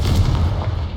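A Confringo blast spell in Hogwarts Legacy, a heavy booming impact that fills the moment with a deep, loud rumble.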